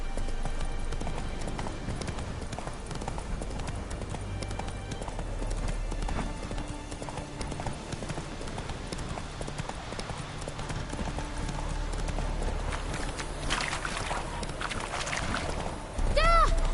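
Hooves of Roach, a horse in the video game The Witcher 3: Wild Hunt, clip-clop in a steady galloping rhythm throughout, mid-level over game ambience, with a short voice line and a bright chime near the end.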